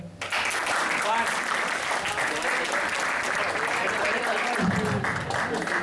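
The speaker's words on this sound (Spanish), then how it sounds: "así que les pido un aplauso para Juan" Steady applause from an audience fills the room, a continuous patter of clapping hands that keeps going without pause.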